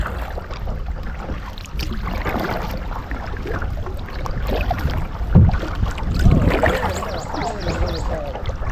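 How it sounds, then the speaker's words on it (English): Wind gusts across the microphone while kayaking on a Florida creek in spring, a loud continuous rumbling buffet that swells and surges, with faint water and paddle sounds beneath. "except for the wind blowing."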